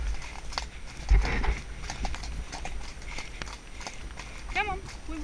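A pony being ridden on a chilly winter hack gives off a steady clip-clop of hooves, heard close from the rider's position beneath a rider talking throughout, with a brief whinny-like tone near the end.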